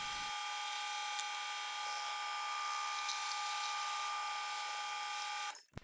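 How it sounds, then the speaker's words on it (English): Milling machine drilling into a foam block, a steady, even high-pitched whine and whir with a faint tick now and then, running continuously before stopping abruptly near the end. "I'm using my mill to do this drilling"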